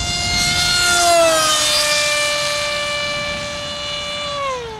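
A Grayson Hobby model jet with an RC turbine engine flies past, its high, loud whine sliding down in pitch as it passes and fades slightly away.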